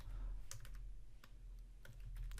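Typing on a computer keyboard, several quick clusters of close, soft key clicks separated by short pauses, faint and unaccompanied by talk.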